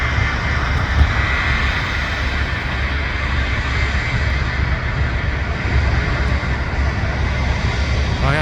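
An airliner taking off at Montréal Trudeau Airport (YUL), heard as a broad continuous engine roar holding steady for several seconds, with wind buffeting the microphone.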